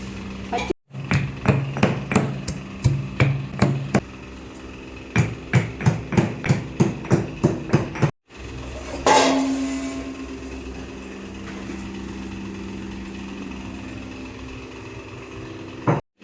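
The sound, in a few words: pounding unpeeled garlic for fish curry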